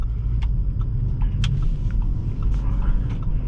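A 2023 Audi A4 S-line drives along with a low, steady road rumble and engine hum inside the cabin, with soft clicks and a voice talking over it.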